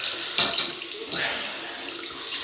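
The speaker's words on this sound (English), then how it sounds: "Cold water rinse." A bathroom tap runs cold water for rinsing after a shave, a close splashing gush that surges and fades as hands move through the stream, with no talking.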